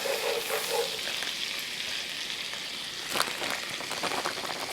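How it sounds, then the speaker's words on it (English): Butter and flour are whisked together in a pot for a roux, producing a quick sizzling, scraping patter that is steady and moderately loud, with no speech over it. "Then we're just gonna whisk that flour into the melted butter, effectively making a roux."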